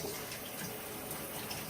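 Tap water runs steadily into a sink as hands are washed, a continuous close hiss with no pauses and nobody speaking.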